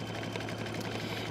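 A computerized embroidery machine stitches a quilt block, a steady, fast, even mechanical whirr and needle chatter, close and continuous, with no talking.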